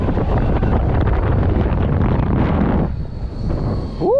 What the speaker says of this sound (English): Ooh, a bit windy.